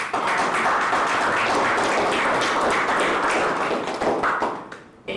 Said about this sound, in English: So again, a big applause for him.